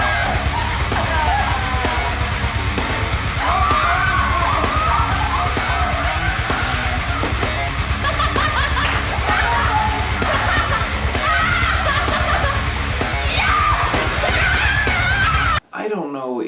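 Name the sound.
someone screaming in a comedy sketch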